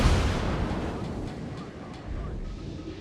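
Warship guns firing in World of Warships, a heavy low boom at the start that rolls off into a sustained rumbling wash of battle noise, with a second swell of rumble near the end.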